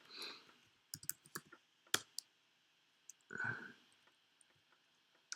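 Keys clatter on a computer keyboard while a command is typed in the hacking game Hacknet, quiet scattered clicks in short bursts with a few louder taps.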